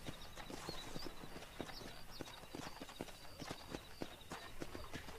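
Horse hooves clip-clop steadily in the Western video game Red Dead Redemption, a brisk uneven rhythm of close, crisp hoofbeats over soft background ambience, with no talking.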